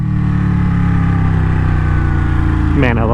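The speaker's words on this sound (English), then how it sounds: "Nothing compares to this incredibly responsive two-cylinder that makes an absolute ton of power." A powerful, responsive two-cylinder motorcycle engine runs with a loud, steady, throbbing drone up close, then its pitch shifts abruptly near the end.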